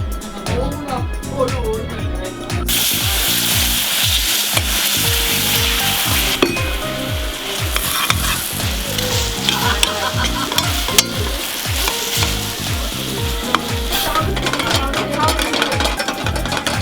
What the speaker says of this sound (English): we're gonna caramelize the sugar. We're gonna make a perfect caramel.